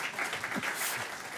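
Conference audience applauding during a French tech talk on Kubernetes, a brief burst of crowd clapping that stays fairly steady, with a few louder accents, for just over a second.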